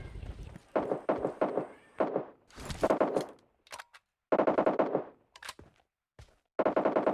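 Gunfire in PUBG Mobile Lite arrives as rapid bursts of sharp shots, loud and close, with several strings of fire broken by short pauses.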